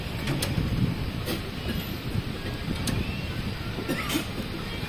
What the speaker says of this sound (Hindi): बिल्कुल रफ्तार के साथ हमारी ट्रेन चलने वाली है